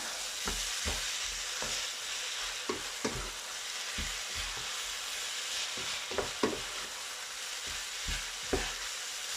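Vegetable fried rice stir-fried in a pan with fish sauce and sweet soy sauce, a quiet continuous sizzle broken by regular scraping strokes of a spatula, no voices.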